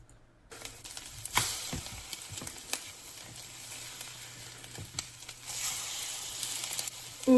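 Eggs and chorizo sizzle and fry in a pan, a steady hiss with occasional louder pops and crackles, close and continuous with no talking.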